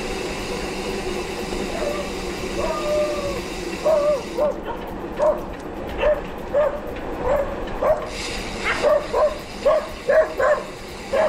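Dogs bark repeatedly in a rhythmic series of sharp yaps on a rural mountain bike ride, moderately close over wind and riding noise.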